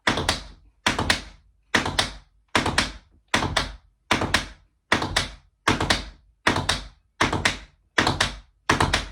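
Tap shoes strike a wooden floor in a steady run of shuffle steps, each group of sharp metallic taps ending with a heel drop, repeating about eleven times in an even rhythm, close and loud with no talking.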